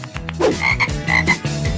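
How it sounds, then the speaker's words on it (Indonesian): A frog croaks loudly and close, a run of rhythmic, rasping croaks repeating in quick pulses with no talk. "Seekor katak."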